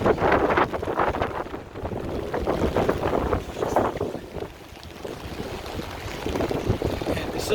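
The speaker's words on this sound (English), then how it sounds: "A little bit windy, hopefully you can hear me" Wind gusts across the microphone on a rainy city street, producing a steady, fluctuating rumble that swells and fades, with occasional speech mixed in.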